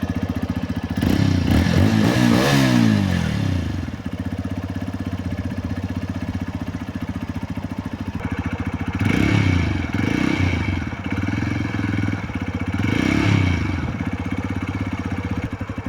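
A motorcycle engine idles with a rapid mechanical putter, then revs up in three distinct throttle bursts, rising and falling, close and loud.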